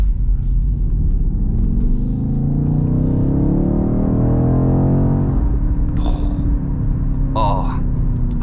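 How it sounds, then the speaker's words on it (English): A BMW XM V8 accelerates on the road, a loud, close rumble climbing steadily in pitch before easing off, with a few faint clicks and beeps near the end. "I love a good proper V8"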